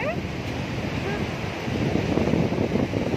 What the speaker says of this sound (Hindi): इतना शोर हो रहा है पानी का